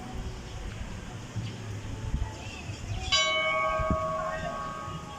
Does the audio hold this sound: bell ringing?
yes